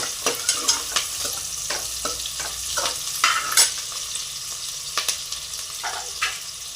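Onions and green chillies sauté in a pan for chicken biryani: a steady close sizzle with repeated scraping and stirring strokes of a spoon against the pan, no voices.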